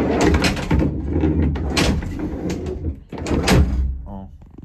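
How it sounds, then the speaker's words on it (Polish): A wooden door swings shut with a few soft knocks and thuds, close by, amid ongoing talk and handling noise. "nie było rypnięcie, ja się wcale nie rozpędzałem, żeby trzasnąć tymi drzwiami"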